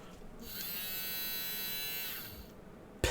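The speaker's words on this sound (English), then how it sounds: "paint whisk." Badger & Co. electric paint whisk buzzing steadily and close for about two seconds, a high whining motor drone that starts and stops cleanly, used for mixing model paint at a hobby bench.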